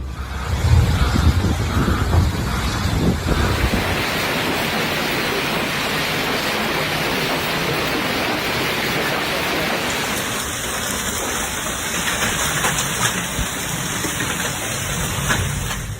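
Heavy hailstorm with wind in Mexico, a steady dense roar of pelting ice and rushing air filling the whole stretch, loud and continuous with no voices.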